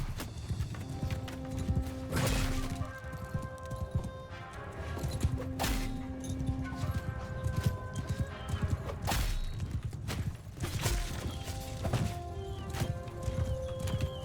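Horse hooves clip-clop through a Bannerlord battle as horse archers ride against a huge enemy army, with occasional whinnies and clashing over a dense, continuous battlefield roar.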